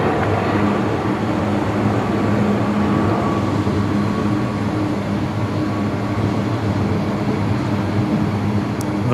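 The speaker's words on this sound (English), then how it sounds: "We're listening to the air train arrive as well" Brisbane Airport Airtrain arriving at an airport platform at twilight, a steady loud rumbling roar that persists throughout with a faint high whine, no talk.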